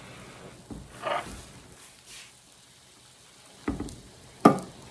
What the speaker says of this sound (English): our water is boiling